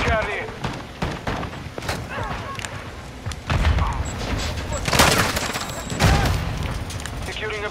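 Gunfire in a shooter video game crackles in repeated bursts and booms, with heavier volleys in the second half, mixed with a player talking over it.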